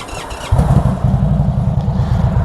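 Indian Super Chief Limited motorcycle with a stage 1 tune and intake upgrade cranks briefly, then its engine catches and settles into a loud, close, lumpy idle.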